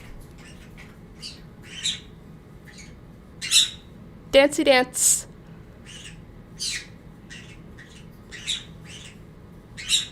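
Pet birds squawk and scream in short, loud bursts scattered through the room, with a dense cluster of shrill calls midway, while a person speaks intermittently nearby.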